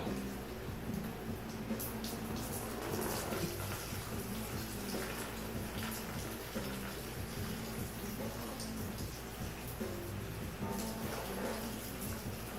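Coolant draining from a Subaru WRX engine during an engine pull, a continuous trickling, splashing flow of liquid at steady volume under faint background voices.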